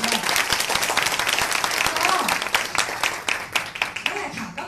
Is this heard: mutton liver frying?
no